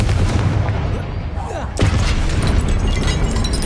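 Confringo blasting curse in Hogwarts Legacy: a dense, booming explosive burst with a sharp crack near the middle, rumbling over continuous low game noise and background sound.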